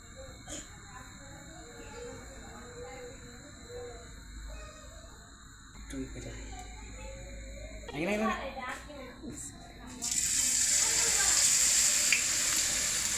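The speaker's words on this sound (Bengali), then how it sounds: "এটা হচ্ছে কচু, এটা বেসন, কচুর বড়া, তেল গরম হচ্ছে।" Taro and gram flour fritters go into heated oil, starting a loud, steady sizzle for the last few seconds after a quieter stretch of kitchen noise and people talking.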